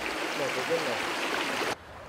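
A flowing stream in Assam, India, gives a steady broadband rush of water that holds evenly for nearly two seconds, then cuts away abruptly to quieter background.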